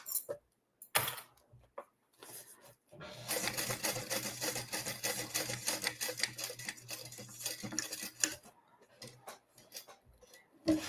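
A sewing machine top-stitches a fabric device cover in one sustained run of rapid, rhythmic clicking stitches, close and clear, with a few isolated clicks and handling noises before and after.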